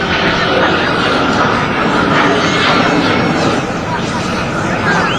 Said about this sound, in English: That was a loud plane.